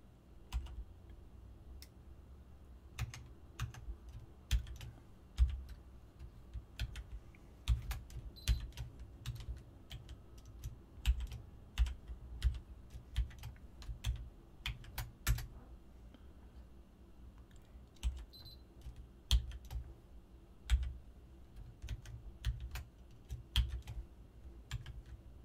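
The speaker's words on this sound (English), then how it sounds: "These passwords are very, very hard to type." Keys on a computer keyboard clack in uneven bursts of typing with brief pauses between, close and crisp over a low steady hum, no voices.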